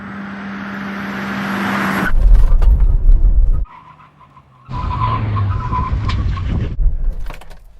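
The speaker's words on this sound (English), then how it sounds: "Brake test from 70 miles an hour. When we reach the line, full emergency stop." Honda Civic Type R making a full emergency stop from 70 mph on a test track: a loud engine roar, then a sharp tyre squeal and skid, a brief lull, and a second long screeching skid.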